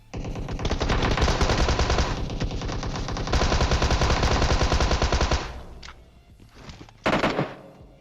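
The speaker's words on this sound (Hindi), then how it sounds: "हर जगह गोलियां पेल दी" Sustained rapid automatic AKM gunfire in PUBG Mobile, loud and dense for several seconds, then a brief lull and one more short burst.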